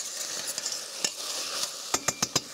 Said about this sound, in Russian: Лук снова жарится, и он все более и более становится коричневым